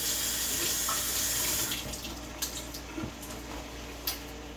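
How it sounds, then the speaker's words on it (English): A sink tap runs in a home kitchen as hands are rinsed of dishwater, a steady close splashing that stops partway through and is followed by a few faint clinks and drips. "Rinse my hands where I was just in that dishwater."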